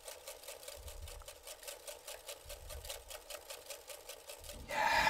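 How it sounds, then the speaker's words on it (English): Eggs are whisked briskly by hand in a bowl while organic extra virgin olive oil is slowly drizzled in for an apple cornbread batter, giving a close, fast, even rhythmic clicking that swells briefly at the end. "slowly drizzle in Spectrum's organic extra virgin olive oil while you're whisking"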